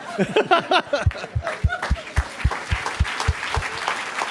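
A crowd at a media conference claps in steady applause, with scattered chuckles and murmurs mixed in, lively and close.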